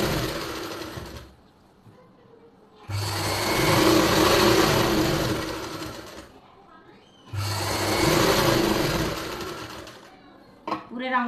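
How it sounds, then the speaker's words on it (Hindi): Sewing machine stitching a seam on plazo trousers in two long, loud running bursts separated by pauses, with a short whir at the very end and a voice talking quietly between the runs. "ऐसे खींचने के बाद फिर हम सिलाई लगाएंगे।"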